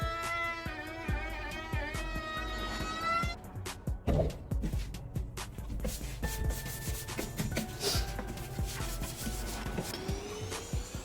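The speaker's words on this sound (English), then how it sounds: "using a sanding block to break those edges takes it to the next level" Repeated rhythmic rasping strokes of a sanding block rubbed back and forth across a walnut board, close up, with faint background music underneath.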